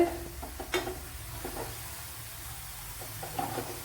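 Sliced onions frying in oil in a pan for a Kerala-style pumpkin curry, a quiet steady sizzle with occasional soft stirring scrapes and clicks, no talking.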